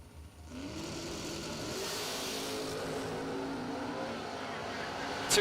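Drag racing cars, one of them a Monza, roar down the strip at a track event, a sustained engine drone heard at a distance beneath crowd ambience, with a brief louder burst at the very end.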